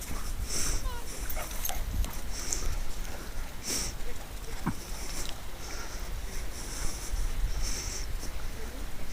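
A dog snuffles and whimpers briefly outdoors on a beach amid steady wind-like background noise, with occasional sharp higher sounds.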